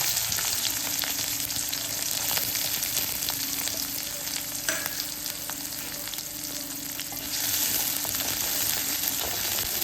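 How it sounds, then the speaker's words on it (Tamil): Onions sizzle in hot oil with mustard seeds and curry leaves, a dense, steady frying hiss with occasional stirring scrapes and pops, close and continuous with no talk. "வெங்காயம் வதங்கட்டும்."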